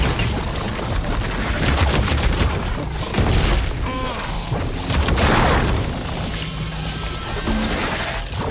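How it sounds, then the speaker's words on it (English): Combat in Horizon Forbidden West, with loud booming blasts and gunfire-like cracks layered over a dense, chaotic rumble, plus scattered speech-like sounds throughout. "It's gonna explode."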